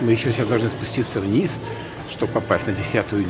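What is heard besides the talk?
No everyday noise stands out behind the speech.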